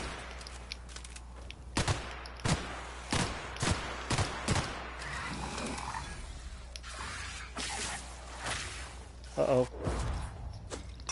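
Sniper rifle gunfire in The Outer Worlds rings out as a string of sharp, loud cracks at uneven intervals, mixed with softer game effects and a few shorter bursts near the end.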